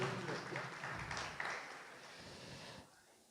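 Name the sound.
applause for an honoured teacher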